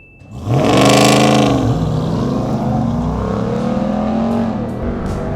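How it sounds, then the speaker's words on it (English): A 2021 Ram 1500 TRX truck launches under launch control, its engine roaring up sharply and loudly, revving through a gear change and pulling hard while the roar holds close and strong to the end. "what better way to end the video than with a launch control?"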